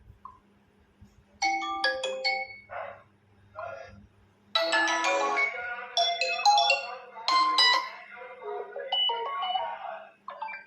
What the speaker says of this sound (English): So I choose a ringtone which you like.